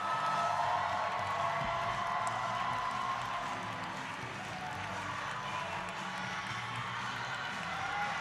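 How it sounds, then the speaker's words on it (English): An audience at a cosplay championship applauds and cheers, a broad sustained wash of clapping and whoops from a large crowd in a hall, moderately distant. "One more time, give them a big round of applause"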